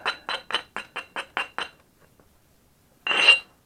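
A glass arrowhead's razor-sharp edge is abraded during knapping, giving a quick run of eight crisp scraping strokes in steady rhythm, close up, then a pause and one longer, louder rasp.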